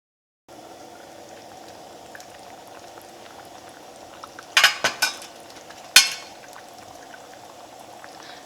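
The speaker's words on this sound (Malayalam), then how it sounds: "ഇപ്പോൾ കറി നന്നായിട്ട് തിളച്ചിട്ടുണ്ട്" Shallot curry simmering in a pan, a steady low bubbling throughout with a few sharp clinks of a spoon or utensil against the pan near the middle.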